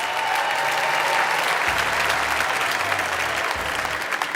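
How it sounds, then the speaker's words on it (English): A live TV audience at a celebrity roast applauds steadily, a dense wash of clapping that holds at full strength from start to finish. "Give her a round of applause."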